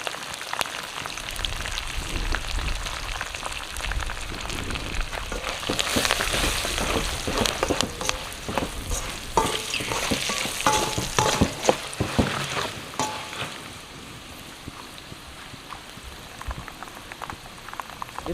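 Pulihora seasoning with turmeric fries in a pan, a dense continuous sizzle with a crackling, rain-like texture and frequent stirring scrapes, close and steady before easing slightly near the end, with no voices.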